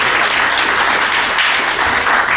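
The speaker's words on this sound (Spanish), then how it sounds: "Un aplauso a todos sus compañeros," Steady, loud applause fills the room from a seated audience at an academic humanities colloquium, continuous and even throughout with no voices over it.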